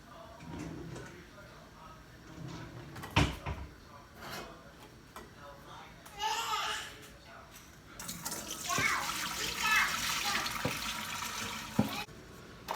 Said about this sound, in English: I'm going to drain the chiles.